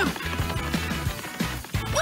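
A cartoon glass smashes amid busy animated action and music, a bright shattering burst near the end of a short, continuously loud stretch.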